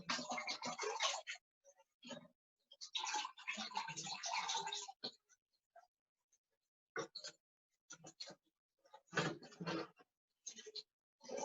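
Water splashes and pours as sacred Padukas are washed during a puja ritual, in intermittent close bursts of rinsing and scrubbing separated by short silences, fairly quiet, with no one talking.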